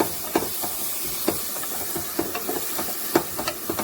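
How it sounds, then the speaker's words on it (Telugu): Green chillies, curry leaves and mustard seeds sizzle in hot oil for thotakura upma: a steady close hiss broken by sharp, irregular pops and crackles from the seeds. "ఆయిల్ కాగింది, వేసేస్తున్నా."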